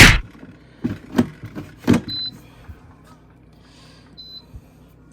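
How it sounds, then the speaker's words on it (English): An air fryer loaded with seasoned steak bites is started with a few sharp clicks and knocks up close, followed by two short high electronic beeps spaced a couple of seconds apart. "Throw that in your air fryer."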